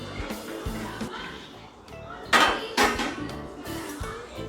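Metal lid lifted off a pan of spicy crab masala, a couple of sharp clanks and clatters amid kitchen bustle with a voice speaking in the background.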